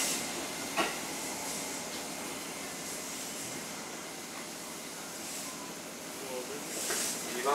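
An out-of-service train arrives at platform 2 of Fuchū-Hommachi Station on the JR Musashino Line during the morning rush. It makes a faint, steady hiss and rumble while a station announcement plays over it.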